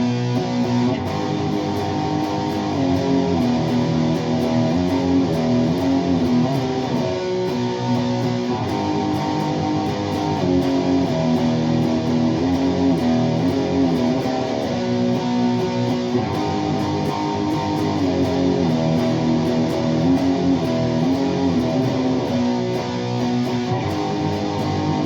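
A distorted electric guitar plays a riff using power chords, dense and steady, continuous for about 25 seconds with no talking.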